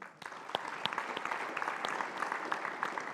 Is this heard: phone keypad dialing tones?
no